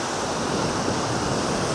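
Steady, roaring surf of ocean waves breaking on Nai Harn Beach, Phuket, Thailand, loud and continuous with wind noise and no voices.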